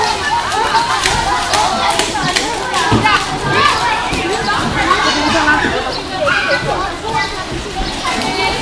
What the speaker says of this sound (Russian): Тут прям куча детей, также куча мам сидит